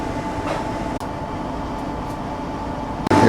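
Rail sounds from a stationary coal train with its engine coupled to the loaded wagons. A steady mechanical rumble and hum runs throughout, near and fairly loud. A brief dropout comes near the start, and a louder burst arrives at the end.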